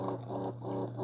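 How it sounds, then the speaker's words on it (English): A Farberware Dual Brew 12-cup coffee maker's pump runs with a soft, rhythmic pulsing over a steady low hum, quiet and close, with no voices. "Now it's kind of a weird pump sound, kind of a pulsing pump."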